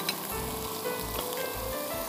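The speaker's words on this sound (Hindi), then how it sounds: "अदरक लहसुन के साथ अच्छी तरह भून लीजिए" Chicken fries in butter with ginger, garlic, onion and spices, giving a steady close sizzle with crackling pops and faint low thumps, no voices.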